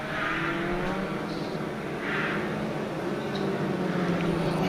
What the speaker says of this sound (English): The race has gotten underway behind the safety car.